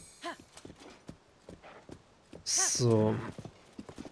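Rhythmic hoof clip-clops of a horse trotting in The Legend of Zelda: Tears of the Kingdom, with a brief loud whinny-like burst midway and a short spoken word near the start.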